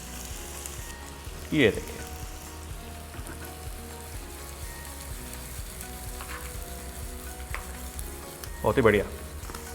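Cumin, garlic, slit green chilli and onion sizzle in hot ghee for dal sultani, a steady close crackle with two louder bursts of stirring, while a voice speaks briefly over it.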